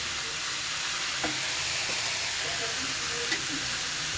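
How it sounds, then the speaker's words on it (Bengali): A pan of greens mixed with shrimp sizzles in a constant broadband hiss of frying, with a few faint spatula knocks surfacing now and then under the steady crackle. "সব মিক্স করে ভাজতেছি।"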